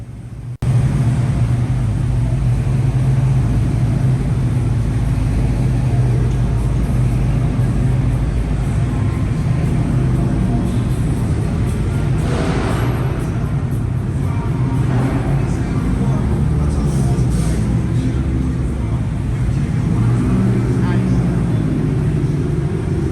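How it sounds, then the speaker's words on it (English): Car engines at a car show in Tyler, Texas, a loud continuous engine roar with a rumbling low end that swells and fades as vehicles rev and pass. "as well as some hellacious revs."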